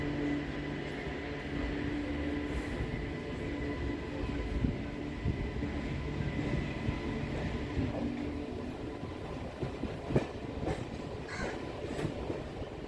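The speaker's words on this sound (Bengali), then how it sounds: "রাইট টাইম পাঁচটা চল্লিশেই ছাড়লো ট্রেন" A MEMU train departs and rumbles along steadily, wheels clacking over rail joints with occasional metallic squeals, heard from onboard in a continuous drone.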